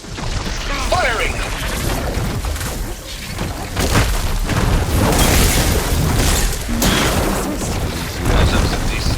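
Weapon fire and explosions in the video game Horizon Forbidden West, heavy booming blasts and crashing impacts that repeat in bursts over a dense battle din, with voices heard amid the action.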